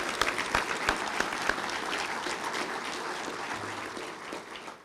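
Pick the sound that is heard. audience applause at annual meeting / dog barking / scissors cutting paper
audience applause at annual meeting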